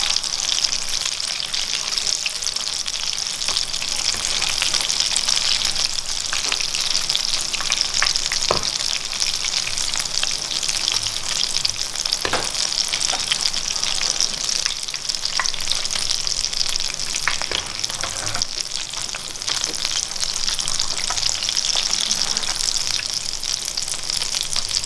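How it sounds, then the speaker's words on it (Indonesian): Cheese potato bowl pieces fry in hot oil with a steady, dense sizzle and bubbling hiss throughout, broken by occasional faint clinks of stirring, with no talking. "Pada dasarnya semua bahan yang kita goreng ini sudah matang, sehingga cukup, nggak perlu sampai lama-lama ya gorengnya"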